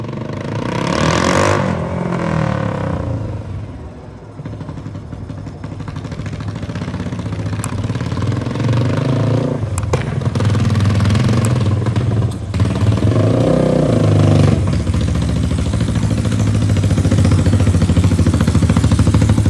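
Engine of Sean's 300 swap build motorcycle, which will not shift into any gears, revs loudly up close, rising and falling in repeated bursts over a clattering idle with brief dips between pulls.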